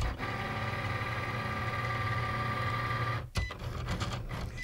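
Cricut cutting machine cutting out a project: a steady motorized whir with a tonal hum, then a sudden clunk and shift to jerkier, rattling mechanical movement near the end.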